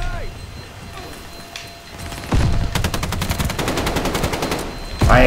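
Rapid automatic fire from a KG M40 rifle in a video game: after a quieter stretch, a close, loud burst of evenly spaced shots rattles on for about three seconds, with a final blast at the very end.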